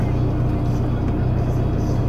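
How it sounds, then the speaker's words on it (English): Steady low road rumble from inside a moving car, a constant engine and tyre drone with no distinct events. "We're in a car."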